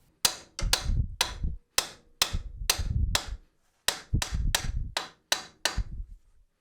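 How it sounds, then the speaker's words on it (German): Light hammer blows on a car wheel carrier during a shock absorber change ring out in quick sharp metallic taps, about fourteen strikes in uneven clusters with short pauses, close and clear with no talk. "Mit leichten Hammerschlägen hier auf den Radträger löst sich der Radträger"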